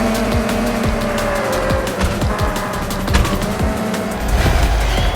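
Engine roar and tire squeals from a mobile racing video game as a race car speeds along, the motor drone steady and loud throughout with repeated sharp skids and sweeps.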